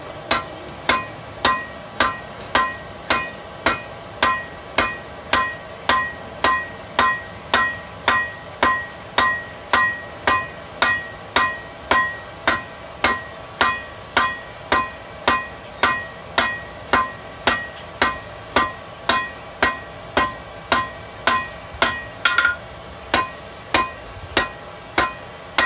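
A hammer forges hot steel into hammer eye pick-up tongs, striking in a steady, evenly spaced rhythm of loud, ringing metallic blows over many repetitions, close-up with no voices.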